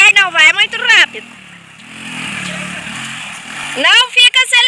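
A motorcycle engine hums low and uneven during a ride, its note rising and falling between and beneath voices talking close by.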